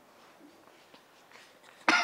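During a comedy game show, a woman who has been laughing lets out a single sharp cough near the end, after a few seconds of faint background murmur.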